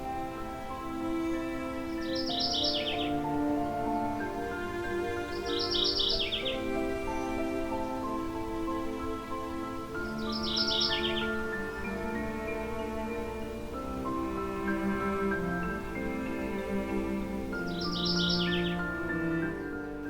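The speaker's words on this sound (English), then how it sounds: "So I'm hearing a mourning warbler." A mourning warbler repeats a short, rolling phrase of high notes about every four seconds over a steady, low background hum.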